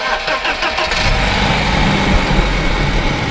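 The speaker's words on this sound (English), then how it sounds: "Go ahead and start it up real fast." A 1991 BMW 318is E30 coupe with the M42 engine cranks and fires up, settling into a steady, loud idle that runs on without a break.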